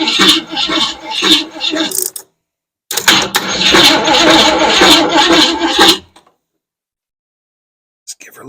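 An abandoned 1967 Ford Mustang engine cranks in two loud, rough bursts, the first about two seconds and the second about three, with a short pause between them and then a sudden cutoff into silence.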